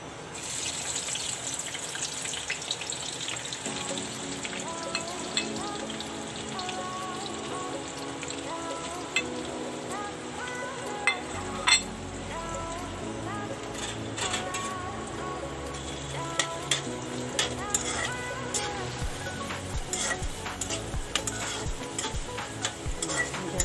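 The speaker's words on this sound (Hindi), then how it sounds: "तेल गरम हो रहा है। अब इसमें प्याज डालेंगे।" Onions tip into hot oil in an Indian bhaji pan and fry with a steady close sizzle, the hiss swelling once they go in, with scattered spoon clicks from stirring and no talking.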